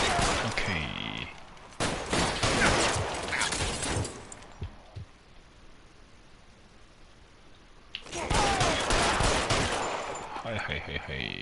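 Bursts of gunfire from a video game set in 1940s Los Angeles: loud volleys and rapid shots in the opening four seconds, a quieter lull, then another dense round of firing near the end.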